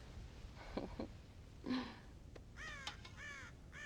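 Crows in the video game Red Dead Redemption, raiding a farm silo full of corn, give several harsh caws in scattered bursts, the last few calls coming quicker and louder over a low background hum.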